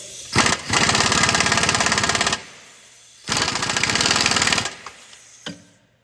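Impact wrench or power tool tightening exhaust bolts during a catalytic converter replacement on a 2009-2010 Toyota Corolla, two loud rapid rattling bursts of about two seconds each, separated by a short pause, with no talk.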